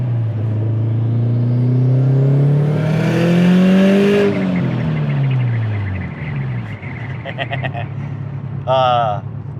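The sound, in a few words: 450 WHP Subaru STI engine accelerating on mountain road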